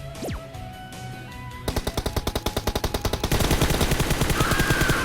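Automatic gunfire in PUBG Mobile, with rapid evenly spaced bursts that start after a short whoosh and grow louder and denser into sustained fire, loud and close with no speech.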